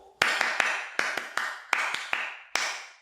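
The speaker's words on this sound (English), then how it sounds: "So when I say yo, clap your hands in a 3-3-3-1 beat." An audience claps the Japanese ipponjime pattern in unison: three quick claps, three more, another three, then a single final clap, crisp and close in a quiet room.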